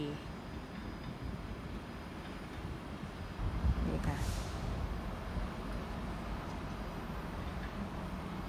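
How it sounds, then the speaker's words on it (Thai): SBB train bound for Zurich at St. Gallen station in eastern Switzerland: a low, steady rumble of rolling stock filling the platform, with a brief hiss near the middle and someone speaking briefly over it. "ขบวนรถไฟขบวนนี้ไปซูริกนะคะ"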